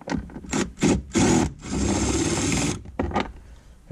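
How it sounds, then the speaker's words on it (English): A Ryobi cordless drill backs a long bolt out of a Jeep. Several short, close whirring pulses are followed by one longer steady run and a few quick final bursts. "We're going to use my trusted Ryobi."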